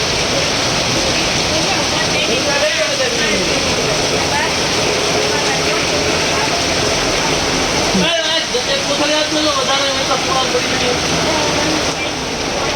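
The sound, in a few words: heavy rain pouring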